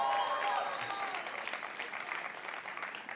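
Audience applause fills a large E3 2018 presentation hall, a steady, dense clapping that holds at an even level throughout without any voices breaking through.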